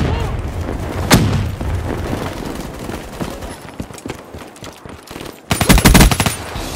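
Gunfire and explosions from a Call of Duty Black Ops III multiplayer match: a sharp loud blast early on, a run of rapid shots and impacts, then a dense burst of heavy fire near the end, with game voice callouts mixed in.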